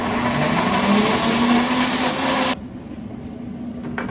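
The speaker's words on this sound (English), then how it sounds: "Blend away." A blender whirs loudly and steadily, blending a mushroom cream sauce of sautéed mushrooms and Parmesan cheese, then cuts off abruptly partway through, leaving quiet kitchen room tone.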